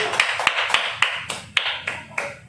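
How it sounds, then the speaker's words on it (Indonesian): Slow, distinct hand claps at a classroom microteaching lesson, about nine separate claps in an uneven rhythm, fairly faint and close, with no voices. "Tepuk tangan dulu untuk kasih."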